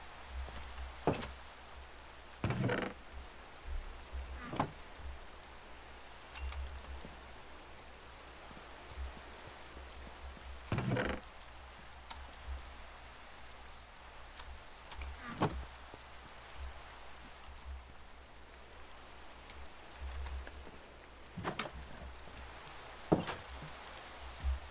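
Rain falling in the game Minecraft, a soft, steady hiss that continues throughout at a low level, broken by sharper clicks and taps, with no talking.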